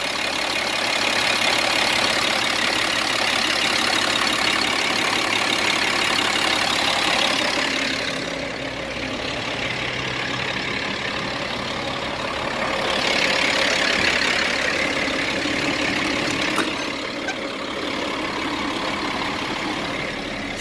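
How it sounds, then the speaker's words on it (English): A 1999 Kenworth T800 truck engine idling while it warms up, a steady, continuous rumble that stays close and fairly loud throughout, with slight swells in level and no talking. "The engine sounds good. I let it warm up for a half an hour."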